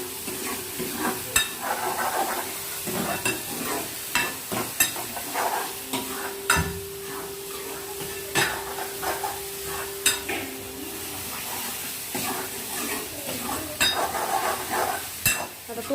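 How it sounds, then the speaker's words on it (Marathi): Masala sautéing in oil in a pan for puran poli, a soft continuous sizzle broken by frequent spoon scrapes and clinks against the pan, close and fairly quiet. "हे आता घालून पटकन आता चांगलं तेल सुटेपर्यंत परतून घ्यायचं."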